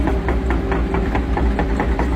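A Komatsu-style excavator's diesel engine runs at a steady idle, close and loud, with a constant low hum and a faint regular pulsing throughout, no voices.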